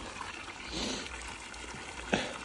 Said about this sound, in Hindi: ताज़ा मोटर से पानी आ रहा है।